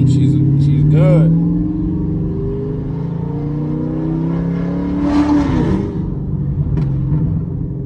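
A cammed Chevrolet SS G8 GT rumbles with a loping idle, swelling through revs before settling back, loud and close, with someone talking over it.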